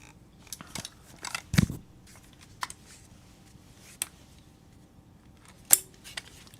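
Hercules portable guitar stand being folded down: a scatter of sharp metal clicks and clacks with quiet rattling between, close by and sparse, no talk.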